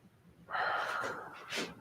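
A deep breath is drawn in and let out slowly during a yoga stretch on a mat, quiet and near with no talking.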